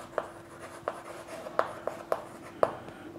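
Pen or chalk writing numbers during a sixth-grade maths lesson: about six short, crisp tapping strokes spaced irregularly, quiet and close, with no talking.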